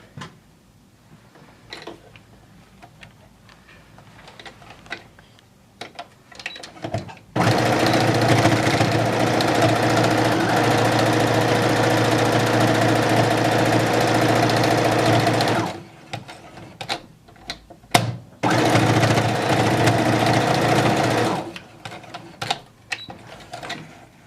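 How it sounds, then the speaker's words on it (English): A sewing machine stitches pieces of headband fabric, running loud and steady for several seconds, then in shorter start-stop bursts, with quiet handling noise before and between runs. "we're going to sew down this side and then around this side and around the thumb"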